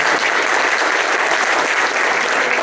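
A dense, continuous roar of audience applause at a public promotional talk, loud and unbroken with many hands clapping together.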